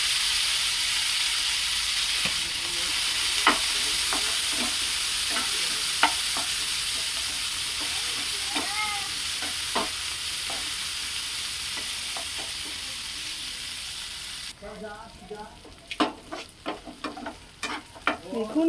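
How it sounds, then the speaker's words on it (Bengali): Cashews and raisins fry in a pan with a continuous sizzling hiss. Clinks and scrapes from stirring come at irregular intervals, and the sizzle drops away near the end, leaving only louder scraping. "দেখুন আমার কাজু কিশমিশগুলো ভাজা হয়ে গেছে।"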